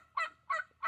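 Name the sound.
turkeys calling on a homestead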